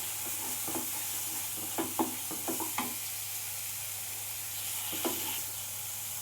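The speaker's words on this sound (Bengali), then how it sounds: "যে সব মশলাগুলো দিয়ে আমি আবারও ভালো করে 4-5 মিনিটের মতো কষিয়ে নেব।" Spices sizzle and are stir-fried in a pan while preparing rohu fish curry, with a soft steady frying hiss, a low background hum, and scattered clinks and scrapes of a spatula against the pan.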